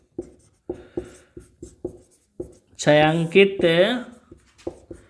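A pen or marker writes out a geometry solution for the area of a shaded region in a circle-and-square problem: a series of short, crisp scratching strokes, near and clear, broken up by a stretch of someone talking over them.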